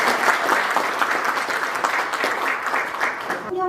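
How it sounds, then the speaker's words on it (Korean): Audience applause at a technology seminar held in a National Assembly members' office building, a dense, sustained clapping from a crowd that stays loud and even throughout before cutting off abruptly at the end. "큰 박수"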